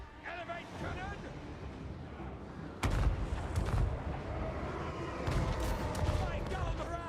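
An Empire great cannon fires in a Total War: Warhammer battle, one sharp, heavy boom cutting through ongoing battlefield clamor and distant voices, with echoing rumble afterward.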